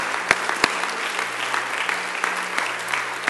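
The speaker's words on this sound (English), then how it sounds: "Can we end that in a hand clap of praise?" A church congregation bursts into a hand clap of praise during a Sunday morning service, a broad sustained wash of many people clapping with a few sharp, close claps standing out, filling the room without speech.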